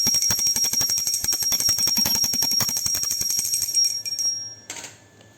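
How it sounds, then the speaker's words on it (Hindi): A small brass puja bell rung rapidly during a Hindu offering, a fast continuous bright tinkling that rattles on for about four seconds, then stops with a few faint afterclinks. "अब हम घंटी लगाकर लगा देंगे भोग।"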